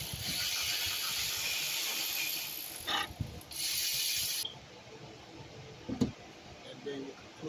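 A hand ratchet on an extension works a nut under a 2008 Honda Accord during AC compressor replacement, making quick close ratcheting clicks in bursts with a sharp knock, over a steady background hiss.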